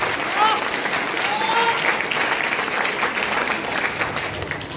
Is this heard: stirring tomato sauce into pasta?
no